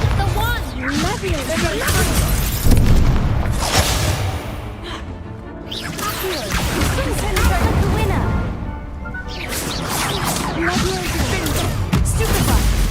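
Blasting-spell explosions go off in a Hogwarts Legacy game fight, loud crashing bursts and whooshes that come in repeated waves amid constant battle noise, with a player shouting over it.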